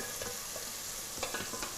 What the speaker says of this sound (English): So you'll hear sizzling, but until we have browning, we're not going to touch our onions.